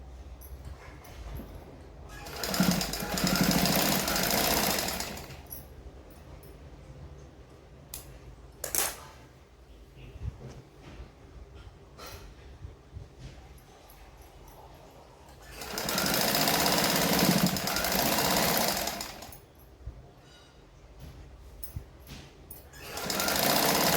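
A sewing machine stitches the edge of a katori blouse, whirring in two loud, fast bursts of several seconds each, with quieter handling clicks and fabric rustling in between.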